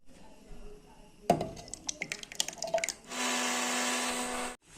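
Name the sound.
mixer grinder blending yogurt in its jar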